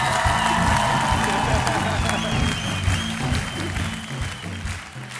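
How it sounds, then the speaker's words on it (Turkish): Studio audience on a Turkish TV talk show claps and cheers loudly when supporters of Hürrem are called on, a dense, steady roar of applause with whoops and shouts that fades slightly toward the end. "Hürremciler alkışlasın."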